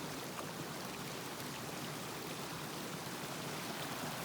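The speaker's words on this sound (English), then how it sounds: "That's a lot of water just coming out of the mountain out of nowhere." Spring water gushes out of a mountainside on a Rockies day hike along the Heart Creek Trail, a steady broadband rushing flow held at an even level throughout, close by and with no talk over it.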